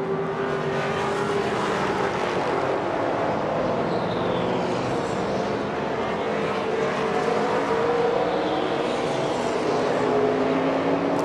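Race cars including a Dodge Daytona roar past on a circuit, a continuous engine drone with rising and falling pitch sweeps as cars approach and pass, under faint background talk.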